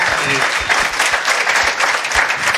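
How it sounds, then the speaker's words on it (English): A live podcast audience in a beer cafe venue applauds a guest, with loud, dense, continuous clapping throughout. "Can we please have a big round of applause for Nick Mason?"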